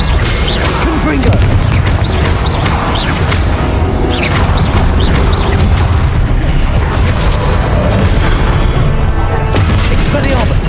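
Confringo spell blasts in Hogwarts Legacy, a dense run of loud booming explosions and crashes mixed with combat noise, continuous and intense throughout, with a voice casting spells over it.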